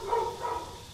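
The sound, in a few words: dogs barking in Midnight Scenes video game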